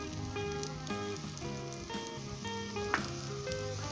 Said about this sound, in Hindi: और इसे 1 मिनट के लिए हम दोबारा अच्छे तरीके से फ्राई करेंगे, भुनेंगे इसके अंदर।